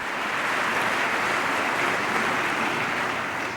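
Members of the U.S. Congress applaud during Prime Minister Modi's address, a dense, steady wash of clapping heard at moderate distance.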